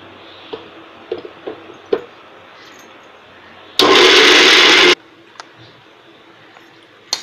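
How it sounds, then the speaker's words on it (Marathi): A mixer grinder whirs through a coarse, dry karela seed chutney in one short loud burst of about a second, with quiet handling knocks before and after. "आता मिक्सर लावून घेते."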